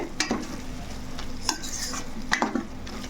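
Masala bitter gourd curry being stirred in a pan with a spoon, soft scraping strokes and a few utensil clinks over a steady low sizzle.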